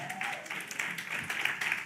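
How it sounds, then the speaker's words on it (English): Audience applause at a community outreach session, a steady wash of many hands clapping at moderate loudness, with a voice faintly audible underneath. "Y'all clap it up."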